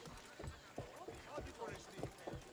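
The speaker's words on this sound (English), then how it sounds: "Let me call my horse." A horse galloping in the video game Assassin's Creed Odyssey, a quick rhythmic run of hoofbeats at moderate volume, steady and unbroken for a couple of seconds, with game ambience around it.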